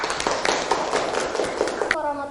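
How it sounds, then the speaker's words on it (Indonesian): Classroom applause for a presenting group comes as a quick run of sharp, closely spaced claps for about two seconds, then stops as a voice begins speaking. "Kasih tepuk tangan dulu"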